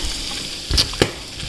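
Spices with pistachio and coriander sizzle in a pan while cooking Ashtami prasad, giving a steady frying hiss broken by two sharp, close crackling pops.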